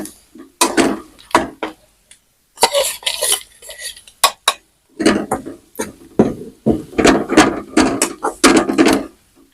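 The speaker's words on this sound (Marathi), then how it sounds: "ही दळेल चटणी त्याच्यात घालून घ्यायची ती पण छान अशी परतून घ्यायची" Ground tomato chutney stirred and sautéed over low gas in a pan, bursts of scraping, clinking spoon-on-pan strokes in uneven rhythm with short pauses, close and fairly loud, no talking.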